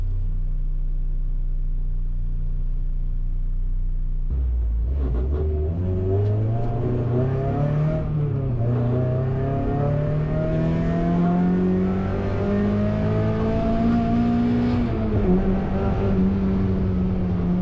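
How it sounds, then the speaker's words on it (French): A Mazda MX-5 engine pulls hard in third gear, with an idle-like drone giving way to a rising, rumbling rev that climbs steadily and dips briefly between surges, loud and close throughout. "L'accélération en 3e est assez impressionnante."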